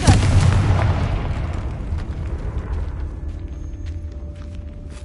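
A Confringo explosion spell in a Harry Potter video game goes off as a loud, close boom that starts at once and then rumbles and decays slowly over several seconds.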